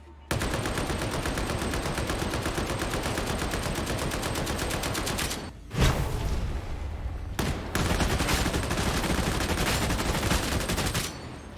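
Full-auto gunfire from a weapon in the video game Darktide rattles in long continuous bursts, loud and close, broken by two brief pauses before the rapid stream resumes.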